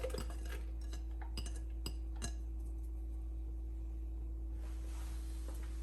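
Garlic, onions and shallots tipped into a cast-iron potjie pot for an oxtail potjie, several sharp clinks and knocks in the first couple of seconds over a steady low hum, then quieter rustling.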